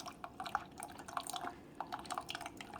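Water drips and trickles out of a Keurig coffee maker during descaling, a quick irregular patter of small drops splashing, close and fairly quiet, with no voices.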